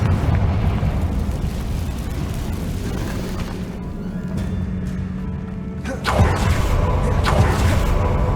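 Confringo blasting spell explosion in the video game Hogwarts Legacy, set in an abandoned cave, a deep rumbling roar continuing throughout with a sharper crackling burst near the end.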